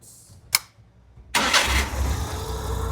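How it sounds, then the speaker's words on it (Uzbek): A Daewoo Damas with a freshly rebuilt engine starts on a single key turn: a brief click, then the engine catches at once and settles into a steady, close idle. "Yangi motor qilingan bo'lsa, bittada zavet bo'ladimi, bitta kalitga?"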